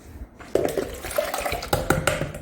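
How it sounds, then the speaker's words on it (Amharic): Water poured from a vessel into a homemade lemon juice mixture in a kitchen, a steady close splashing pour with a few louder gurgles and bursts running through the whole short stretch. "ውሃ እንደዚህ ጨምርበታለሁ።"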